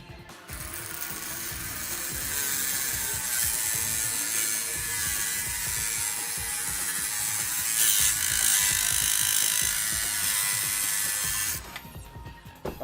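A Dremel rotary tool cuts steadily for about eleven seconds, a loud, high, continuous whine with gritty grinding underneath, then stops abruptly.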